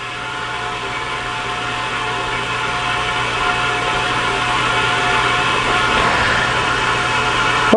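A SemiTool SRD spin rinse dryer in its heated nitrogen drying cycle, a smooth, continuous motor whir with a whining hum that swells slightly louder toward the end, heard alone.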